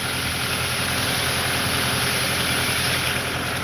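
A tractor engine idles with a steady, even low rumble and a constant hum, running alone without any break.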